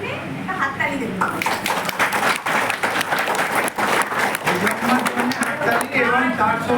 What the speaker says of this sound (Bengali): সবাই মিলে আমরা আজকে সেজ আম্মার জন্য হাততালি দেবো